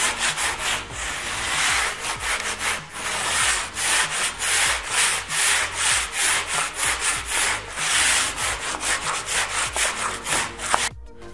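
Sandpaper worked by hand across a plastered apartment ceiling to rub off marks left by profile tape: steady, rhythmic rasping strokes, close and fairly loud, running continuously without speech.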